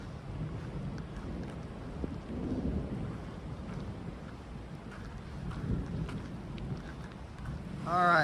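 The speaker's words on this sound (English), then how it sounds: "it's thundering all around us. Just little bits of rain." Thunder rumbles in low, rolling swells around a Colorado Trail hiking route near Lake Ann Pass while light rain patters sparsely, with steady wind noise throughout and a brief rising tone near the end.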